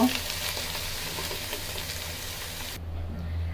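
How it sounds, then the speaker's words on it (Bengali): Pieces of hilsa fish fry in hot oil and spice mix in a pan, a steady, close sizzle that cuts sharply quieter near the end while a low hum carries on underneath. "যখন আমরা বুঝবো মাছগুলো ভাজা ভাজা হয়ে এসেছে"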